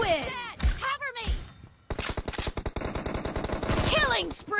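Rapid automatic gunfire bursts out in the mobile battle royale game BGMI / PUBG, loud and rhythmic, following some earlier shots and game sounds, with someone talking over parts of it.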